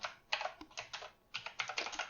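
Someone types quickly on a computer keyboard, producing a short run of crisp, close key clicks in two quick flurries with a brief gap between them.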